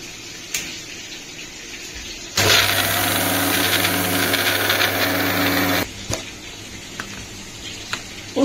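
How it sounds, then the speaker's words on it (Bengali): An electric kitchen mixer grinding dry poppy seeds with a little salt, a loud whirring buzz running for about three and a half seconds between quiet stretches with faint clicks. "পোস্তটা মিক্সিতে বাটার সময় শুকনো আগে বেটে নিতে হবে"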